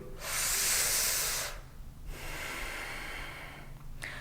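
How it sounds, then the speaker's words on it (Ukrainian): Breath drawn in through pursed lips and let out through the nose, a loud close airy inhale lasting over a second, a brief pause, then a long softer exhale, with no talking. "Ротом робимо вдих, носом видих."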